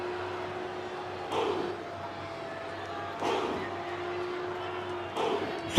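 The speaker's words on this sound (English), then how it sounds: "crowd is chanting Femi" Video game wrestling crowd in WWE 2K25 chanting for Femi, a steady arena roar with periodic swells of rhythmic chanting every couple of seconds, alone without talk.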